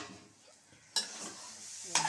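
Something fries in hot oil with a soft, steady hiss that swells after two stirs, a short scrape near the end and a stronger burst near the start of each stir. Nobody speaks.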